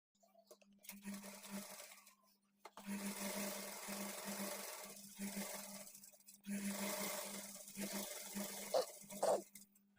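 A sewing machine stitches blouse sleeves with lining at a half-inch margin, running in three long steady bursts separated by short pauses, close and fairly loud with a constant motor hum and rapid needle clatter, no voices.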